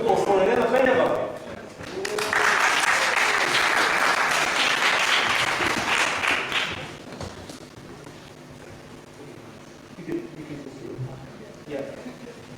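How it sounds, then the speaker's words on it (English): Theatre audience at a startup pitch event applauds for a presenter, a loud burst of clapping that swells for several seconds and then fades, with talking before and after. "big applause for Elena Peneva"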